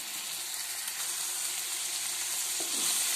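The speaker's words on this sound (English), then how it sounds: "add the cut small onions and fry nicely" Small chopped onions frying in oil for a mutton roast, giving a brief, even hiss of sizzling that swells slightly toward the end.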